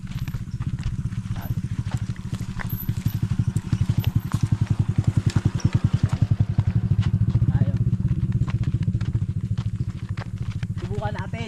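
On a rural path in Samar province, a motorcycle engine runs with a steady low putter, close and continuous, swelling slightly midway and then easing off.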